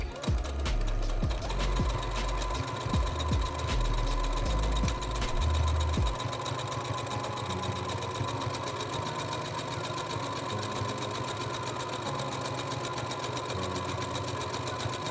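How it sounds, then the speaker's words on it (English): A sewing machine stitches buttonholes on homemade winter pyjamas, a rapid mechanical whirring that runs in short uneven bursts at first, then settles into a steady hum. "So I've done all the buttonholes."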